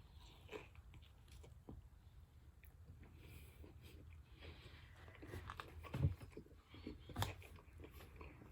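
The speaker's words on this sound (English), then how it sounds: "There is a definite crunch when it comes to the chicken sandwich." Someone bites into and chews a crunchy fried chicken sandwich, with faint close crunches and chewing scattered over several seconds and a couple of sharper bites.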